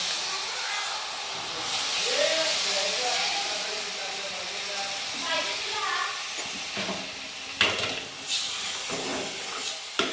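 Water poured into a hot pan of chicken gravy hisses and steams steadily, with a few sharper clatters near the end and faint voices in the background.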